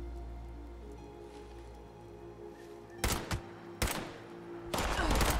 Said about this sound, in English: Hey, I shot you twice.